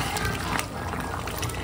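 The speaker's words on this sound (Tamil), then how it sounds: "இதுக்கே நல்லா கொதிக்குது." Liquid boiling in a cooking pot on a home stove, a steady dense bubbling and hissing at close range with no talking.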